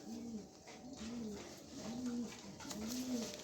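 Four evenly spaced low coos from a male pigeon, each a short rounded note, faint and close against a quiet background hiss.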